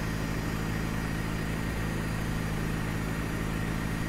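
A Robin DR401 light plane's piston engine in the X-Plane 11 flight simulator runs at a steady, even idle, a constant low droning hum with no talk.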